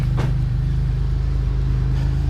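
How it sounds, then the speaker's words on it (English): A GMC Duramax engine with an exhaust leak and a blown-out muffler idles close by, a loud, steady, low rumble with a raspy edge and no voices. "But it has an exhaust leak"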